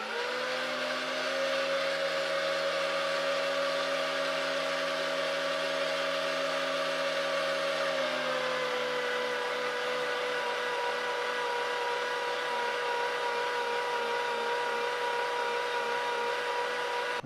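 An electric meat grinder churns mince for British sausage rolls with a steady, loud motor whine that drops slightly in pitch partway through and then runs on evenly to the end, with no talking.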